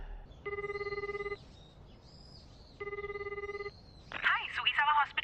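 A telephone rings twice in a quiet room, each ring a bright trilling burst about a second long separated by a pause, followed by a brief noisy scrape near the end.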